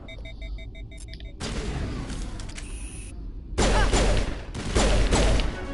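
Loud gunfire from Mass Effect Legendary Edition comes in dense, sustained bursts of shots, with brief electronic tones and a short lull between volleys before the firing grows heavier.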